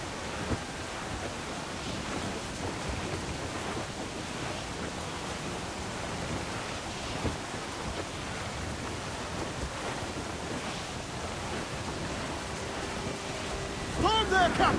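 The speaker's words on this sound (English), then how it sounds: "Storm there, Captain! Looks bad!" A thunderstorm at sea in Assassin's Creed 4 Black Flag gives a steady wash of heavy rain and surf, broad and constant throughout, with a brief louder burst near the end.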